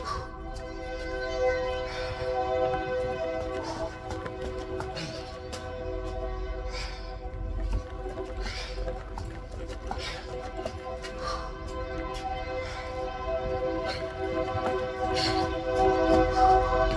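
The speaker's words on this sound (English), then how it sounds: "Damn train." A train passes nearby with a continuous loud rumble and rattling of cars, layered tonal ringing over it, and a heavy low-end roar that swells toward the end.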